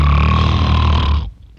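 A single loud, close snore, a deep rough rattling breath lasting over a second and then cutting off into near silence.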